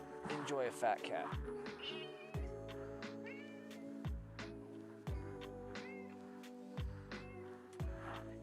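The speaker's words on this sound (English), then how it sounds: "That better have been you meowing, cat, and not my kid." A pet cat meows at home, her calls recurring across the stretch amid a busy mix of music-like tones and other background sound, moderately close and clear.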